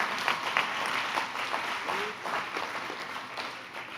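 Audience at a church Christmas banquet clapping together, a steady dense patter of many hands in a hall, fairly loud and sustained throughout with faint voices mixed in.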